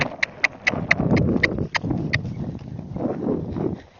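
A barefoot Rocky Mountain horse canters, its hooves striking in a quick, fairly close clip-clop rhythm that fades slightly toward the end, with some background rumble.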